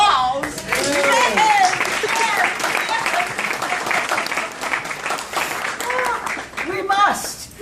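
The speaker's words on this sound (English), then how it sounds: "can we please give Miss Well a round of applause?" A room full of people claps warmly for a presenter at a staged teatime event, loud sustained applause with voices and cheers overlapping through it before it tapers off.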